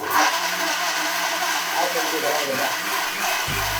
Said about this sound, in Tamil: அதுக்கு நம்ம தக்காளி அரைச்சிடலாம்.